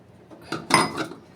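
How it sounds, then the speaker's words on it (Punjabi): Garlic cloves and a little ginger are pounded coarsely in the kitchen, giving a few short, quiet knocks and scrapes over about a second with no talk. "ਤਿੰਨ ਚਾਰ ਲਸਣ ਦੀਆਂ ਕਲੀਆਂ ਤੇ ਬਿਲਕੁਲ ਥੋੜਾ ਜਿਹਾ ਅਦਰਕ ਇਹਨਾਂ ਨੂੰ ਦਰਦਰਾ ਕੁੱਟ ਕੇ"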